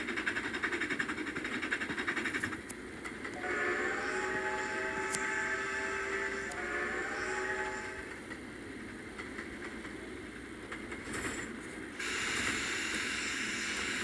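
Default mountain locomotive rolling along a railroad in a train simulator game, a steady rumbling run with rhythmic wheel clatter and a sustained horn-like tone in the middle, no talking over it.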